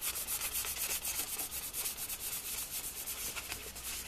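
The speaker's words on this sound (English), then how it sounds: "You can do a pretty good job with the sandpaper." Steady close-up rubbing of 1500-grit sandpaper against a shell surface, a continuous gritty hiss with quick back-and-forth strokes throughout, no talking.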